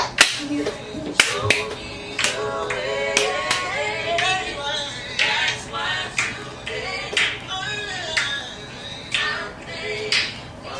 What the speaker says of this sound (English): Let me just put this phone down and clap.